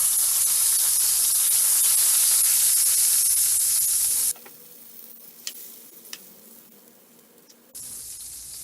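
Butter melting in a pan with leftover bacon fat sizzles loudly and steadily with a bright hiss, drops to a quieter crackle for a few seconds, then surges back to full sizzle.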